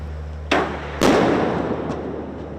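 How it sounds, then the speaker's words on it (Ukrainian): Two sharp blasts from a naval mine explosion, the second heavier, followed by a long rumbling, crackling decay. "А ось так виглядає вибух справжньої міни"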